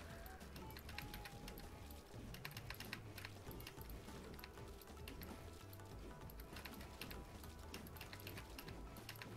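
Rapid keyboard and mouse clicking from someone practising edits in Fortnite, a dense continuous clatter of keystrokes over low game sounds, close and steady throughout.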